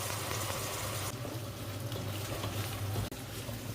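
Steady bubbling and gentle sizzling of pinapaitan soup boiling in a pot, close by, with a low hum underneath and a brief dip near the end.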